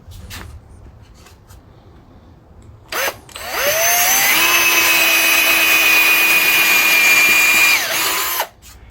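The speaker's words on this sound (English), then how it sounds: "now you can pre-drill the hole with confidence" A power drill pre-drills a hole in wood for a camper van swivel table mount: one loud, steady motor whine that spins up, holds for about four seconds and then cuts off, with no talking.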